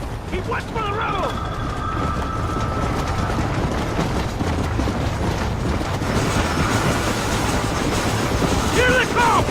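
A train rolls on steadily in a western film, its rumbling wheels and clatter running as a continuous loud bed, with brief whistle-like tones near the start and end and voices calling out over it.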